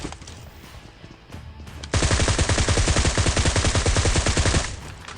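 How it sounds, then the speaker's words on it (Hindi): A sustained burst of rapid automatic gunfire erupts in the PUBG Mobile battle royale game, loud and close for nearly three seconds, with evenly spaced shots in a fast rhythm after a quieter lead-in. "मैंने उसको 3-4 गोलियां मारी।"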